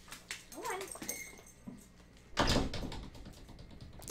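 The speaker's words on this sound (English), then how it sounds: "my dog just got thrown in my room" A dog in the video game Minecraft gives a few short whines and yelps early on, followed by a louder thump-like burst and scattered game noises.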